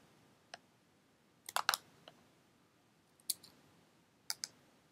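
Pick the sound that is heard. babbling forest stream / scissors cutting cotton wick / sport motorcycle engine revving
scissors cutting cotton wick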